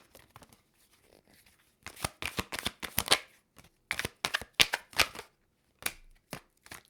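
Tarot cards riffled and shuffled in a quick series of crisp, close bursts, quiet at first and then louder in clustered flurries with short pauses between.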